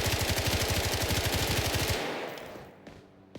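Rapid automatic gunfire rattles in a steady, fast rhythm in the video game BRM5, a loud sustained burst lasting about two seconds that then cuts off, leaving faint clicks and a short echoing tail.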